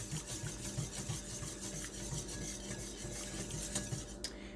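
Cocoa and butter being stirred together in a bowl for brownies, a low continuous scraping and rubbing with faint clinks of a utensil, quiet and close, with no talking.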